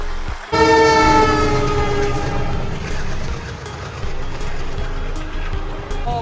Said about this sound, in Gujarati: ટ્રેન આવી ટ્રેન આવી ભાગો